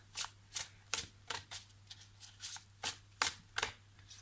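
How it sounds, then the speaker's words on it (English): Tarot and oracle cards being shuffled by hand, a steady run of about a dozen crisp riffling bursts spaced roughly every third of a second, close and clear with no talking. "So I'm going to pull some cards and see what they've got to say to us."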